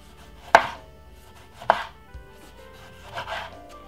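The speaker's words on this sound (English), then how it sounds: "Then I got 1 tomato, which is just a medium sized one, and I'm gonna simply slice it up." A knife slicing through a medium tomato on a board makes two crisp, separate chops about a second apart, followed later by a softer cut, close and clear with no talk.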